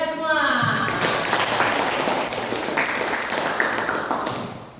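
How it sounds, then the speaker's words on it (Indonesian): A classroom audience breaks into applause, a dense patter of many hands clapping that swells quickly and carries on steadily at moderate volume, with a voice heard briefly at the start. "Aplaus dulu untuk kita semua"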